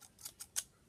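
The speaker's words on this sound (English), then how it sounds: "So just get a pair of scissors." A pair of scissors handled close by, giving three quick, crisp metallic snips in a row over near silence.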